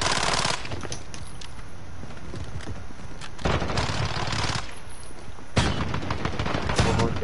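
Modern Warfare video game gunfire: bursts of rapid automatic shots and heavy bangs with constant battle noise throughout.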